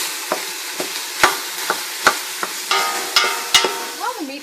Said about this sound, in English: So stir that up and get that browning.